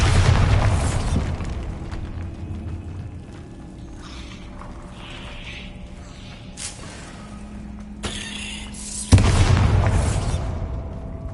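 Bombarda blasting spell from the video game Hogwarts Legacy on PS5, heard as loud booming explosions at the start and again near the end, with rumbling game ambience in between.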